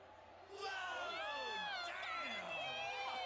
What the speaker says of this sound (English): I turn around at the loud cheer.